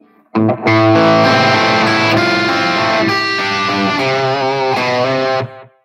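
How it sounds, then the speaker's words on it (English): An electric guitar with heavy distortion rings out loud and sustained chords for several seconds before cutting off, the tone thick and saturated. "So when I've got a lot of distortion"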